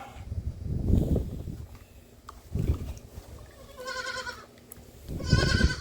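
Young goats bleat in short, high, wavering calls among rustling and low background noise, a few cries spread over several seconds.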